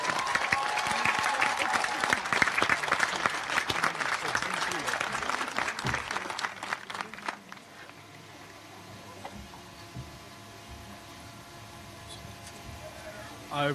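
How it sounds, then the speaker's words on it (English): A crowd at a commencement ceremony claps loudly in a full round of applause for graduates heading into the armed forces, then the clapping thins and fades about halfway through, leaving a quiet, hushed hall. "let's give them a round of applause"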